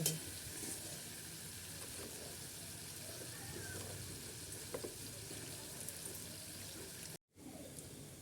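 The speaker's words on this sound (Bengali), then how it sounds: "আলুটা ভাজা ভাজা হয়ে গেছে" Steady, faint sizzling of potatoes frying in a pan, a continuous hiss with occasional small clinks, ending in a brief cutout.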